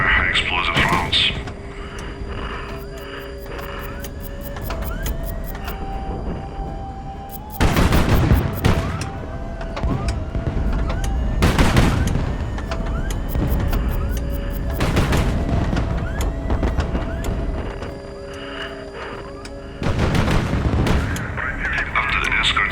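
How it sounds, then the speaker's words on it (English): High explosive rounds fire from ship cannons in the Highfleet strategy game: repeated heavy booms and bursts over a droning, tonal background, with some loud explosive blasts. "Then there are high explosive rounds."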